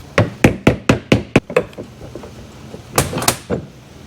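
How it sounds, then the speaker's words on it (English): A hammer drives a push nut onto the wheel axle of a plastic Step 2 Whisper Ride II ride-on toy car: six sharp, evenly spaced taps, a pause, then three or four more close strikes, near and loud. "we're gonna hammer it down"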